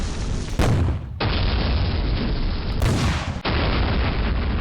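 Artillery fire in a World War II strategy video game set on the West Front during Operation Sealion, heard as two loud, close booming blasts about two seconds apart, each followed by a sustained rumbling roar, with no voices.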